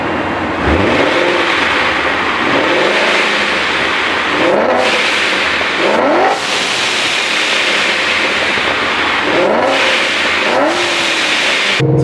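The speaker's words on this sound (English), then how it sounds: "the blow-off valve sounds absolutely amazing" Turbocharged car with a Tial blow-off valve, recorded from outside. Engine revs rise repeatedly, each followed by a sharp hissing vent from the valve, about four cycles over a steady roaring background.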